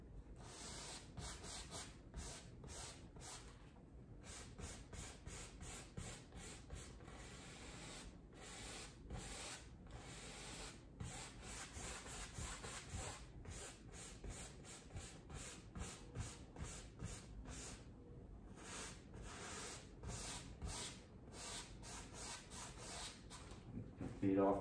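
A 2-inch paint brush smooths paint across canvas for a mountain lake landscape, giving repeated soft scrubbing strokes in a quick rhythm, close and fairly quiet.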